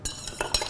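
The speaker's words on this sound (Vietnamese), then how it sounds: "Khuấy đều." A spoon stirs a watermelon and tangerine black tea drink in a cup, giving a few quick clinks and scrapes in under a second, close and fairly clear.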